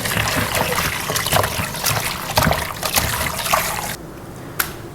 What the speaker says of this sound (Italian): Ora li risciacquiamo ed eliminiamo l'acqua.